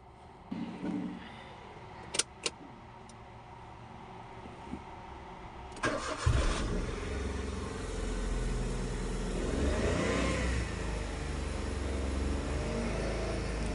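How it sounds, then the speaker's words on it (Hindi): A 2019 Maruti Wagon R: a few sharp key clicks, then the engine cranks and catches. It settles into a close, steady running hum that carries on to the end. "गाड़ी स्टार्ट हो गई है"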